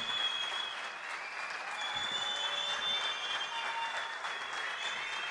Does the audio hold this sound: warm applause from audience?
yes